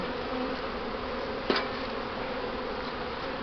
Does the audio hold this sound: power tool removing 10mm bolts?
no